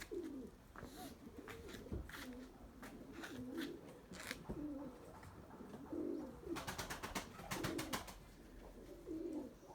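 Pigeons, high-flying tumbler birds kept in a loft, coo in repeated soft rounded phrases at close range, with brief wing flutters and faint chirps in between.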